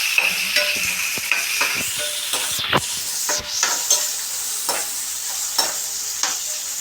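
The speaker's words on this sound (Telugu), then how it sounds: "బాగా ఫ్రై చేయాలి." Onions frying in a pan for a home-style egg curry, a steady close sizzle with repeated clatter of stirring, no voices.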